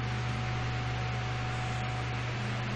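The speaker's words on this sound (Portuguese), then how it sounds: "vocês ouvem barulho de ventilador aqui, um barulhinho. É porque eu tô com dois ventiladores ligados" Two electric fans run together in a room, giving a steady, unbroken whir with a low hum throughout, moderately quiet and close, with no talking.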